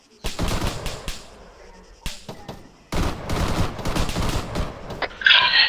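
Sustained machine gun fire in a military video game, with dense rapid bursts in two long stretches separated by a short pause, loud and close, plus a sharp crack near the end.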